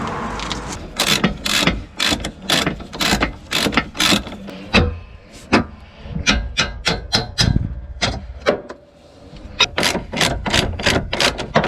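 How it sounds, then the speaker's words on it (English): A torque wrench tightening the wheel nuts on a Mazda Bongo van gives off loud, close bursts of rapid ratcheting clicks, with short pauses between rounds. "just the old clicky torque meter"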